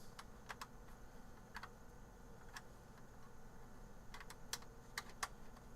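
An Apple IIGS keyboard is plugged in and handled, giving scattered light plastic clicks and key taps, some in quick pairs and small clusters, faint and close against a steady background hiss.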